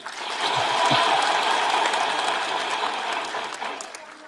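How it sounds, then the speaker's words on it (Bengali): A crowd at a political gathering clapping loudly, a sustained burst of dense applause that swells early and slowly tapers, with voices mixed faintly into the noise. "আমাদের ক্ষোভের জন্য একটা জোরে হাত হাততালি"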